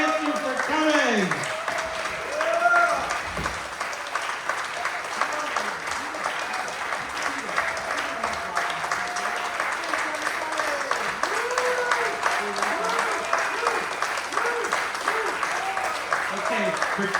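An audience applauds at the end of a performer's live show at the JCC: steady, dense clapping that holds for the whole stretch, with voices talking over it.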